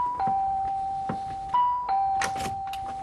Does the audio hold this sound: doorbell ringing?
yes